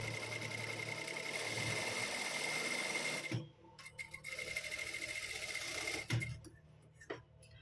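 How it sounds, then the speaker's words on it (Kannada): A sewing machine runs steadily for several seconds stitching cloth for a blouse front, then stops and starts in short bursts with clicks and handling noises, heard close at low volume. "ಬಟ್ಟೆ ಸಮ ಮಾಡಿಕೊಂಡು ಒಂದು ಸ್ಟಿಚ್ಚನ್ನ ಹಾಕೋಬೇಕು"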